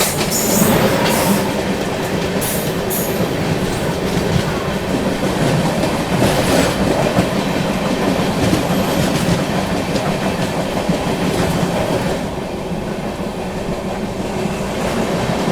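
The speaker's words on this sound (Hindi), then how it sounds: "सामने से आती हुई 11077 अपनी पुणे जम्मू तवी झेलम एक्सप्रेस" The 11077 Pune–Jammu Tawi Jhelum Express rolls past near New Delhi with a loud, steady rumble, rhythmic wheel clatter over rail joints and occasional high squeals from the wheels.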